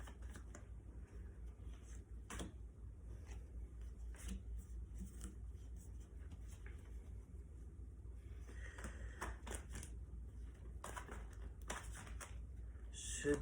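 Tarot cards are shuffled by hand in a quiet room, with soft, irregular riffling and light slaps that come in bursts, some louder and sharper toward the end.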